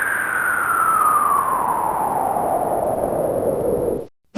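Police car siren in a video game, a single long loud wail sliding steadily downward in pitch, with a thin high tone above, ending abruptly.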